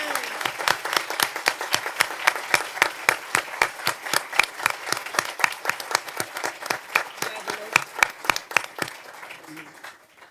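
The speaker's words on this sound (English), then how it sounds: "please everyone, join me in a round of applause for these outstanding accomplishments" An audience at a school board meeting gives a round of applause, a run of distinct, evenly spaced claps close to the microphone that thins out and stops near the end.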